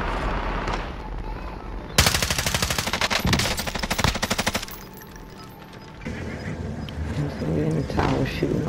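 Automatic gunfire from Call of Duty: Rebirth cracks out in a loud, rapid burst lasting a couple of seconds amid other game sounds, with players talking around it.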